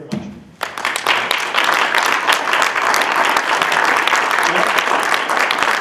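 An audience breaks into applause for speaker Jim Stergios after a brief quiet moment, the clapping starting suddenly and then continuing as a dense, steady wash. It is mixed with a few nearby taps and faint murmurs.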